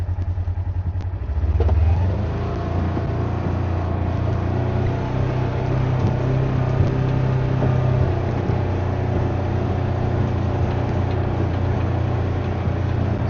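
A Polaris utility vehicle driven with hand controls rumbles steadily with a low engine drone and rattling clatter, loud and close, revving briefly near the start and then holding an even pace with no talking.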